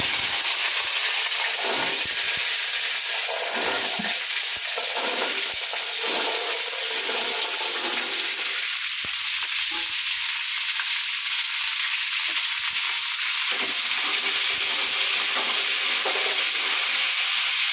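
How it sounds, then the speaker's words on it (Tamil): Mustard seeds and Indian gooseberries (amla) frying in sesame oil for a gooseberry pickle give a loud, steady, close sizzle and crackle, with shifting bursts as the pan contents are stirred and no talk. "இதோ கடுகு மருக்கு போடுறோம் இந்த நெல்லிக்காய் போடுறேன்"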